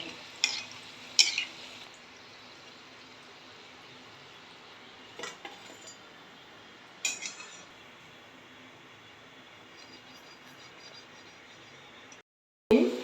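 Dahi vada batter fries in hot oil with a soft, steady sizzle throughout, broken by a few brief clatters and scrapes of a utensil in the pan.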